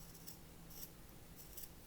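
Sharp scissors snip through a sock in three evenly spaced crisp cuts, quiet and close, with soft rubbing of fabric between the cuts.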